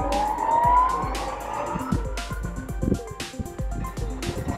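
An electric Jaguar E-Type converted by Electrogenic drives on a runway, a rising electric motor whine followed by a rumbling ride with bumps, clicks and wind, fairly loud and close.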